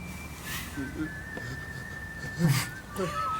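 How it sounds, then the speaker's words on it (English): A thin, steady whistled tone holds for a couple of seconds, fairly faint, with a few brief rustles and knocks around it. "Who's whistling?"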